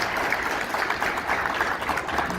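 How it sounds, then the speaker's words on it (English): An audience at a sports awards event for a desert race gives a round of applause, a steady moderate wash of clapping without talk. "I think Nedbank and their sponsors deserve a round of applause."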